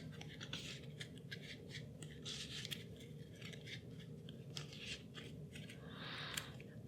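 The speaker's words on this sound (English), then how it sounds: "Keep on shuffling." A deck of game cards is shuffled by hand for a Power Rangers Heroes of the Grid board game, making soft, rapid riffling and flicking clicks in repeated bursts, close but quiet, without talking.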